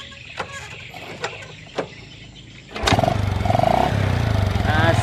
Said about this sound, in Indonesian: Coba saya starter lagi ya